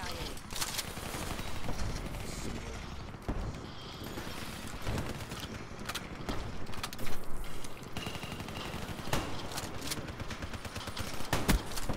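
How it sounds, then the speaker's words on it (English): A KRM shotgun fires in Black Ops 3 multiplayer, with repeated loud blasts inside dense, busy game noise and other gunfire. "Rocking the KRM, baby. First time ever rocking a shotgun."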